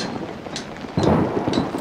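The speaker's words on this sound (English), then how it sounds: "the storm really wants the attention of the YouTubers" Thunderstorm rumble in the horror game Outlast, with a low roll of thunder swelling about halfway through over steady rain and wind noise, loud and close, no talk.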